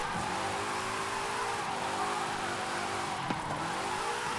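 A car drifting in the racing game Forza Horizon 5 on drift suspension, the engine revving steadily with a rising and falling pitch over continuous tire noise, loud and unbroken with no voices.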